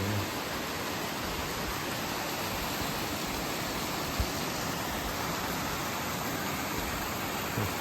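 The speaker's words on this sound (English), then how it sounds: "That's the overflow from the lake." Lake overflow spilling as running water, a steady full rushing wash like a small waterfall, constant and close with no other sounds.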